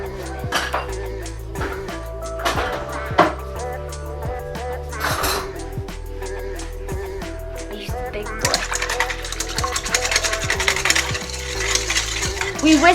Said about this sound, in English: We whisk it till like salt, sugar, and yeast is all dissolved.